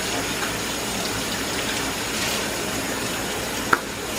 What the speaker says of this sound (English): So I'm just gonna wash this little thin steak off.